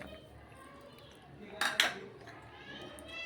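Spoon clinks against a bowl while potato, onion and spices are mixed for kanda batata bhaji, two quick faint knocks near the middle over a quiet background.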